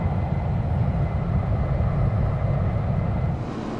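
Virtavia C-17 Globemaster in X-Plane 11 during a climb, a loud continuous jet engine roar that stays heavy and low throughout, easing slightly near the end.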